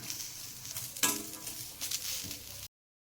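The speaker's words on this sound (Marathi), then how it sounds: "त्याच्यामध्ये कांदा आणि लसूण पहिलं घालते आणि हे चांगलं भाजून घेते" Soft sizzling of onion and garlic frying in an iron pan, with a few stirring scrapes and a brief clink, close up, stopping abruptly near the end.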